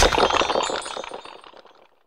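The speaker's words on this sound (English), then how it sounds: "Or the sound of a skeleton falling apart as it dies." Sound effect of a skeleton falling apart as it dies, from a fantasy RPG adventure audio CD: a dense clattering crash of rattling pieces that starts loud and thins into scattered ticks over about two seconds.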